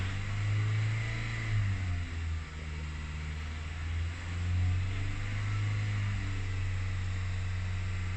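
A car engine with a dirty air filter, fitted with a MAF sensor, is revved from idle to about 2500 rpm, giving a steady loud hum that swells slightly and holds with no talk.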